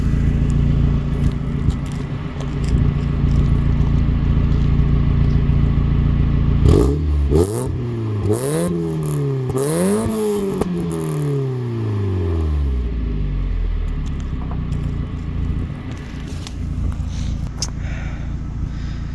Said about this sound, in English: it sounds a lot nicer than the previous exhaust did